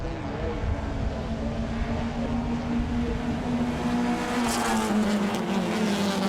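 Race cars in a WA Sporting Car Club CARCO.com.au Cup race roar past in a steady engine drone with a brief sharper surge near the end, while a commentator talks over them.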